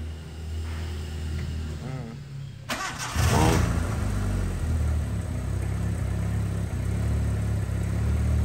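A turbocharged Honda D16A6 car engine cranks briefly and catches, then settles into a steady, close idle that rumbles on without pause.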